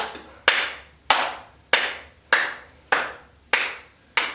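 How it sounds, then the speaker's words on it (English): Sharp, close hand claps during a yoga session, seven of them in an even rhythm about two-thirds of a second apart, each with a short ringing decay and no talking. "And then clap."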